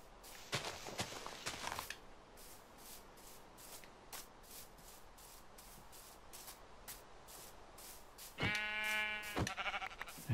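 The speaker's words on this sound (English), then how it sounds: "Sheep over there." In the Minecraft video game, quick footstep clicks pace steadily across a quiet scene, then a sheep lets out a clear, fairly loud bleat near the end.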